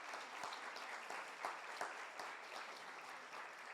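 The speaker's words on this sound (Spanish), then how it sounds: "Dele palmas a Jesús." A church congregation applauds steadily during a sermon on the resurrection, the dense clapping filling the space without a break.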